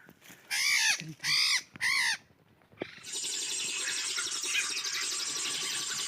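A Poksay Haji songbird calls outdoors on a bright morning, giving three loud, clear, ringing whistled notes in quick succession, followed by a steady wash of dense higher chirping and twittering that carries on to the end.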